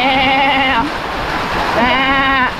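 A goat gives two long, wavering bleats close by during heavy rain, with a steady wash of rain and water noise underneath and a short gap between the calls.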